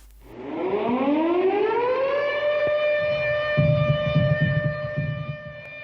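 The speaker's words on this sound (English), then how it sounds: "the mass production work was frequently interrupted by air raid sirens" A wartime air raid siren winds up from a low groan to a steady, loud wail that holds for several seconds, with rumbling and clattering noise underneath toward the end.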